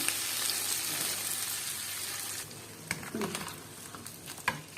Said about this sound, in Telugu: ఈ ఆయిల్ ఇంట్లో పోసుకుందామండి కొంచెం ఇలా వేడి ఉండగానే పోయాలి